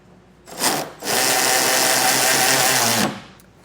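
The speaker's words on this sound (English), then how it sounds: "So I'll get my socket on here and tighten these both down." A powered socket drives down the side plate bolts of a B&W Turnoverball underbed gooseneck hitch on a 2021 Chevrolet pickup: a short burst, then about two seconds of steady, close whirring before it winds down.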